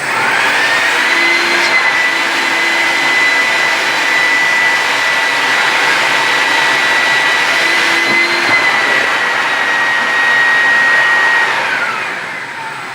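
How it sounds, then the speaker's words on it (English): A vacuum cleaner runs steadily and loudly, pulling a string through a pipe while fitting out a wild-and-woolly end table; a high whine holds throughout, with brief low bubbling pulses in the middle. "You turn your vacuum cleaner on"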